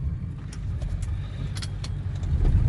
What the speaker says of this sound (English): you just gently push the car through the maze